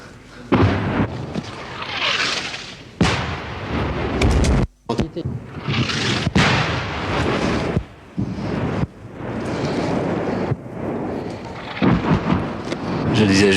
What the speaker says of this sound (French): Je disais justement que l'artillerie française ne réagissait pas vite aujourd'hui.